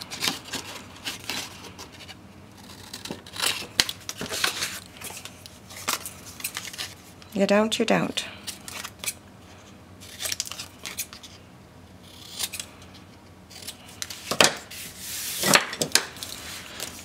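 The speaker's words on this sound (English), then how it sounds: "I am just going to trim it out with my scissors." Scissors trim a paper belly band for a handmade mini album page, giving a few short, close snips and paper rustles amid handling noise, with a brief spoken phrase.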